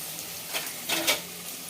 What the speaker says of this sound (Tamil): பார்த்தீங்கன்னா தக்காளி வெங்காயம் நல்லா வதங்கிடுச்சு.